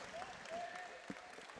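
Teammates in the crowd at a men's basketball game give a short burst of applause, a moderate scattered clapping over arena noise with faint voices.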